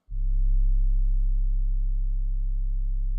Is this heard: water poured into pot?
no